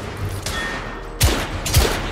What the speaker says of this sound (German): Ich hab dir doch in den Kopf geschossen.